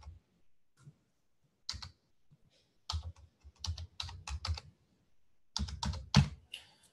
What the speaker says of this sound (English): Let me just type my Skype for you.